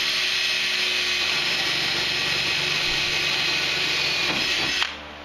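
A power drill bores 3/16-inch holes in a board, a loud continuous whirring grind that runs steadily close by for about five seconds before winding down.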